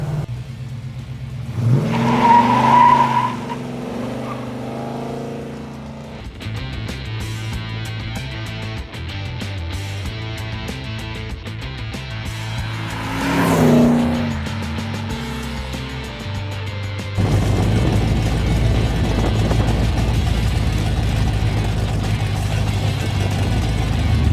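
A 1970 Plymouth Road Runner's engine revs up hard twice, rising and falling in pitch, between stretches of steady idling and a rougher, louder run near the end.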